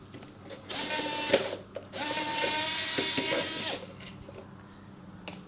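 Mechanical clicking and a whirring power screwdriver remove a screw from a Hatari electric fan being repaired, two buzzing bursts with scattered ratcheting clicks between them, close and fairly loud.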